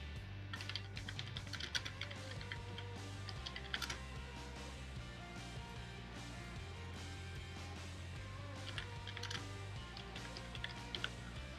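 Keys on a computer keyboard tap in quick irregular bursts, close and fairly quiet, as answers are typed in over a low steady electrical hum, with no voices.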